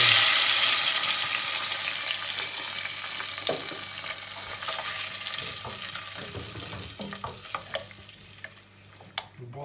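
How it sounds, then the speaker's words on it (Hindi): Hot garlic oil tadka, browned, poured into cooked whole black masoor dal, giving a steady frying sizzle that fades gradually, with a few clinks of a utensil near the end and no talk. "अब हम इसको अपने मसर में जो पके हुए उसमें ऐड कर देंगे।"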